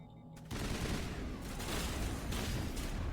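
Rapid pistol fire in the video game Mass Effect Legendary Edition, a dense, loud stream of shots with combat noise that runs almost continuously after a brief quieter start.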